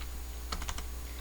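A short burst of four or five computer keyboard keystrokes in quick succession while typing a command on a Kali Linux machine, crisp and fairly close, with quiet room tone before and after.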